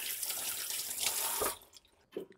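Water runs from a kitchen tap into a pot in a steady stream for about a second and a half, then stops, followed by a few faint drips and splashes.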